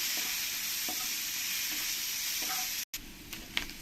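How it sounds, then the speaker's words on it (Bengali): Chopped onions sizzling steadily in a pan for a Bengali ghugni, with scraping stir strokes and a brief break before the frying resumes, close and loud. "আমি পেঁয়াজগুলোকে লাল লাল করে একটু ভেজে নেবো"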